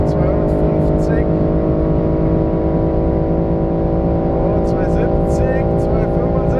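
BMW M3 Competition accelerating hard at high road speed, a loud, steady engine drone running the whole time with rising pitch, while someone talks over it.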